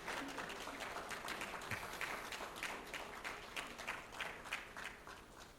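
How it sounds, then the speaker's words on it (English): Applause from an audience at the close of the Murtala Muhammed Foundation annual lecture in Nigeria: a steady, fairly faint wash of many hands clapping with a loose, uneven rhythm, continuing alone for several seconds. "Another round of applause would be entirely appropriate."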